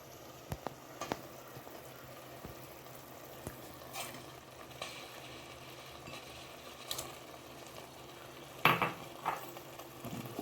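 Four chicken leg pieces being stirred into masala with salt in a pot for Arabian maqluba chicken biryani, with a soft sizzle, scattered spoon scrapes and knocks against the pan and a louder clatter near the end, no voices.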